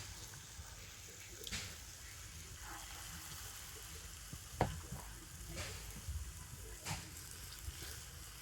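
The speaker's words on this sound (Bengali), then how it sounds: "পরের বারে বড়াগুলো সুন্দর করে ভেজে নিয়েছি" Bora fritters fry in oil in a frying pan, a soft, continuous sizzle with scattered pops and occasional stirring scrapes, heard alone at low volume.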